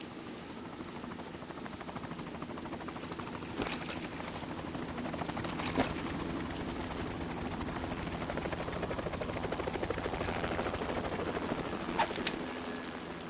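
Steady helicopter rotor drone fills the scene in Metal Gear Solid 2: Sons of Liberty, continuous and fairly loud, with a few sharp cracks like gunshots scattered through it.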